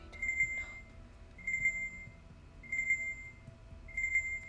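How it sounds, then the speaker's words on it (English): Timer alarm beeping in four evenly spaced bursts of rapid high beeps, moderately loud over a quiet room. "Shut up, timer."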